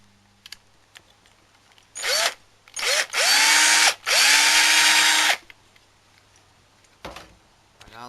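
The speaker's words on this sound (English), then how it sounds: "now that you've drilled your holes out" A power drill bores bolt holes for a homemade GoPro camera mount. Three loud whirring bursts run back to back, each one spinning up and winding down, with a brief clunk before and after and no speech.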